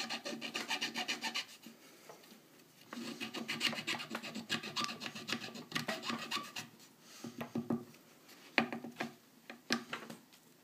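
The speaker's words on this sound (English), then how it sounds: "Trying to actually scrape this a little bit into the steel." A magnet is scraped against steel while building an axial flux generator, producing quiet repeated rasping strokes in irregular bursts with short pauses between them.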